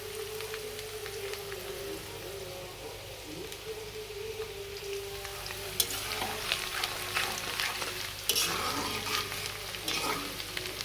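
Steady crackling sizzle of vegetables frying in plenty of oil in a pan for noodles, continuous and fairly close, with occasional louder spatters and stirring scrapes.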